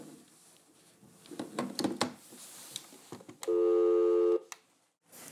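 A few clicks and handling noises, then a steady electronic telephone tone holds for about a second before cutting off; another tone starts at the end.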